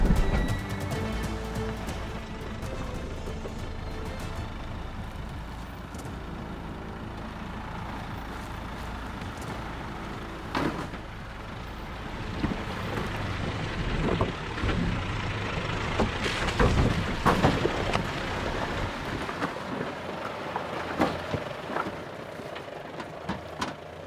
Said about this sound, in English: Pretty fun little creek crossing, this one